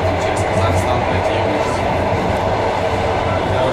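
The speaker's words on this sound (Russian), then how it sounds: "а так едем на поезде" Passenger train ride heard from inside the carriage: a loud, steady rumble of wheels on rails fills the whole stretch without letup.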